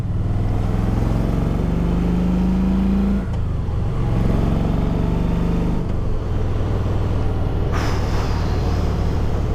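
A Kawasaki Vulcan Voyager motorcycle engine pulls hard in third gear out of a slow turn, a loud, deep droning rumble with steady pitch that briefly dips around gear-load changes, heard close and without talk.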